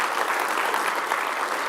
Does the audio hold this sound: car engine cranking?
no